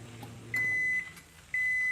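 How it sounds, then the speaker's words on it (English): A microwave oven heats a measuring cup, its low hum giving way to two clear, sustained electronic beeps close by. "My measuring cup's in the microwave."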